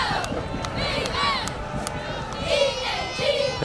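Large crowd with a packed student section roaring at a high school football game, a steady loud wash of cheering and shouting voices with brief whistles and yells rising above it.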